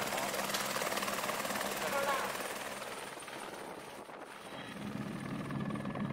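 A helicopter takes off westward from a high plateau airfield near Lhasa, its steady rotor and turbine roar filling the air with broadband noise that fades slightly midway before swelling again, with faint voices underneath.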